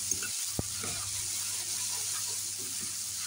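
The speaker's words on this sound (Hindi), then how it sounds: "अब हम ऐड कर देंगे इसमें चुकंदर। और अब इनको भूनेंगे इसमें।" Beetroot sautéing in a pan gives a steady, close frying sizzle throughout, with one sharp clink of a utensil near the start.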